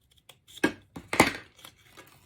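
Scissors snipping through folded paper pieces, a few sharp separate cuts and crinkles spread unevenly, close and fairly quiet.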